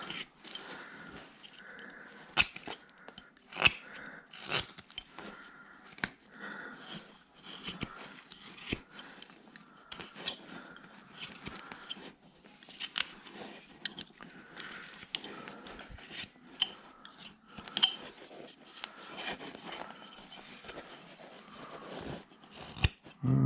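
A long blade shaves away at material with soft, repeated scraping and crunching strokes, quiet and close, with short pauses between passes.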